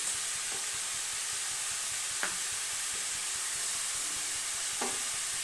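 Ash gourd and prawns with salt and turmeric sizzle steadily in a pan over medium heat, a constant frying hiss broken by two or three soft scrapes of a spoon stirring.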